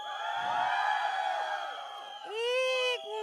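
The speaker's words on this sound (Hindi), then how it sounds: "फरीदा, आप आने के पहले लड़कों एक बार चिल्ला के बता दो, आप लोग भी एक बार।" An audience at a film trailer launch event shouts and cheers, a sustained crowd roar followed by a louder burst of high-pitched whoops and screams near the end.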